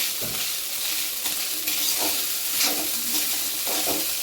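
Rice being stirred into a sizzling spiced oil tempering for spicy tikhat bhat, a steady close frying hiss with repeated scraping strokes of a spoon through the grains.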